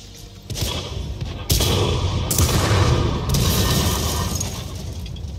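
Artillery shells land with heavy booming blasts in World of Tanks on the Serene Coast map, several loud impacts with shattering, crackling debris over a steady battle rumble, no talk.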